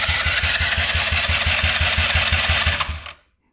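The small engine of a Polaris RZR 170 kids' off-road buggy chugs loudly up close in a steady, fast putter, then cuts out abruptly into silence near the end.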